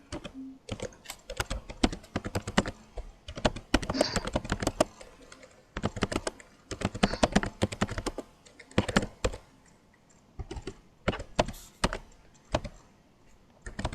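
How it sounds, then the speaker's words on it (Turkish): Rapid clattering keystrokes on a computer keyboard in irregular bursts with brief pauses, close and fairly loud, no talking. "Nice klavye sesleri."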